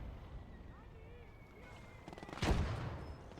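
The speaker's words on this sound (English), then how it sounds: "15 centimeter SIG goes off there" A 15 cm SIG infantry gun fires once in the Gates of Hell war game, a single heavy boom that rings out amid quiet battlefield ambience and faint whistling.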